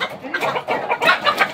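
Several chickens clucking close by in a farmyard, with a busy run of overlapping short clucks and calls rising and falling throughout, no voices heard.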